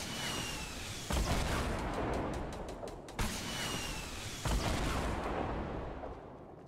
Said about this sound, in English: Where's the rocket coming from?